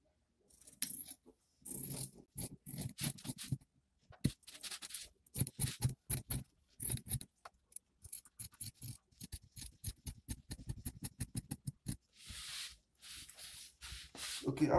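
Scissors snip out a jumpsuit collar pattern piece in a long run of close, crisp cuts, irregular at first and then settling into a quick steady rhythm of separate snips, with no talking.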